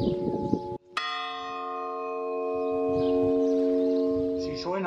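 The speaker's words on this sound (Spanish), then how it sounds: "Cuando la campana suene" A single church bell strikes once and rings out with a long, slowly fading resonance, after a brief spoken voice.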